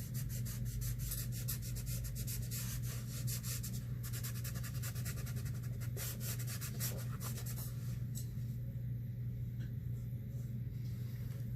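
Oil paint being rubbed into a tonalist painting's canvas with brush or cloth, a faint, steady scratchy rasp repeating close by under low room rumble.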